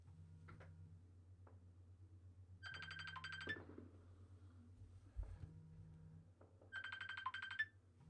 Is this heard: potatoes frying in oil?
no